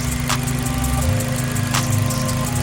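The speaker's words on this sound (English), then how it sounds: "Finally, the fans have just kicked in." Radiator cooling fans whir steadily on a Honda Civic Type R EP3 after a radiator change, a loud constant drone with a low engine hum running underneath, no talking.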